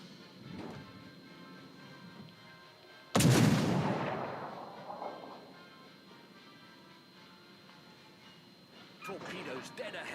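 Naval guns firing high-explosive shells in a warship video game: one loud, close booming blast with a long rumbling decay, softer thuds later, while someone talks over the scene.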